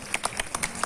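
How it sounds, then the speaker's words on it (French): At the 2020 Paris International Agricultural Show, spectators clap briefly as Poitou mule breeds are led out, producing a short run of about half a dozen distinct, moderately loud claps. "sous les applaudissements du public,"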